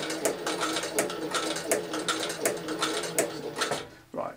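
A leather sewing machine stitches backwards on a tool roll in a steady, rapid mechanical clatter of repeated needle strokes, close and continuous, stopping abruptly near the end.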